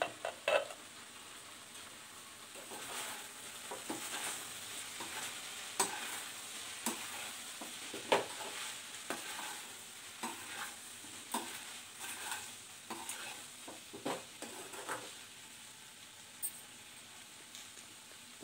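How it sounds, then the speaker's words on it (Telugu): Curry being stirred in a pan with the lid off, a steady low sizzle under repeated scraping strokes of a spoon against the metal, moderately close, with no talking. "ఇప్పుడు కవర్ తీసుకొని ఒకసారి కలుపుదాం"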